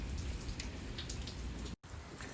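Heavy rain pours steadily onto a flooded tortoise yard, a loud, dense patter of drops that briefly cuts out before resuming, with no voices.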